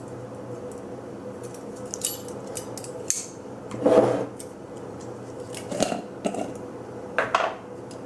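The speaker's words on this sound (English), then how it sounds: "I'm just mixing all of this up in a wide mouth pint jar" Mayonnaise ingredients with lemon juice and salt being mixed in a wide mouth pint jar: soft scraping and knocking of a utensil against glass, with a few louder clinks scattered over a quiet background.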